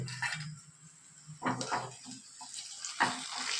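Tamarind water splashes and pours into a pot in short bursts over a low background hiss, with no voices.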